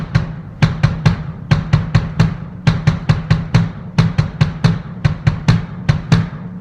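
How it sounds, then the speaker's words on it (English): Steady bass drum hits in grouped patterns, counting up and back down with short pauses between groups, punchy and close with no voice. "So just the bass drum would sound like this."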